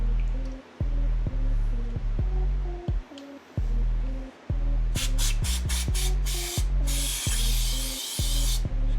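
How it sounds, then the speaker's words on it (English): Brake cleaner sprays onto engine valve parts in a series of loud, close hissing bursts, some short and one long, separated by pauses. "I'm gonna just blast those with some brake cleaner."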